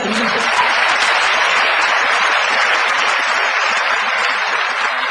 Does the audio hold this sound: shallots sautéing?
no